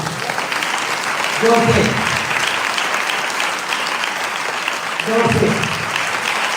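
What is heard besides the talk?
congregation applauding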